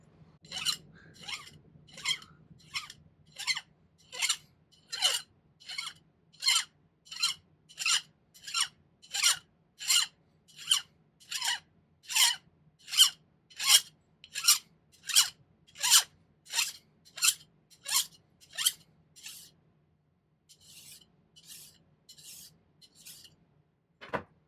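A metal file rasps back and forth across a silver piece in silversmithing, shaping square wire to a clean 45-degree angle: about two dozen steady, evenly spaced strokes, close and crisp, with a brief pause near the end and no talking.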